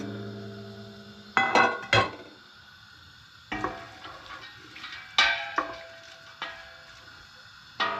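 Two chopped onions sautéing in oil in a pan, a soft steady sizzle broken by several sharp, scattered clatters of stirring.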